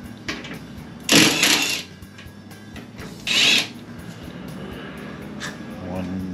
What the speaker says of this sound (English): I need to loosen these two bolts here for the master cylinder